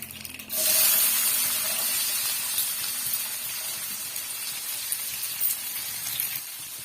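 Two medium sliced onions drop into hot oil with fennel seeds and break into a loud, steady sizzle, with the hiss settling to a constant crackle for several seconds.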